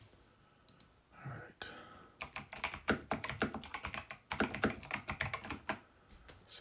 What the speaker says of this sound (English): you could hear clearly the sound of my clickety-clickety buttons